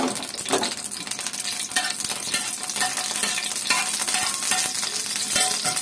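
Dried red chillies fry in a wok with a steady, loud sizzle and the scrape of stirring running continuously throughout, with no voices over it.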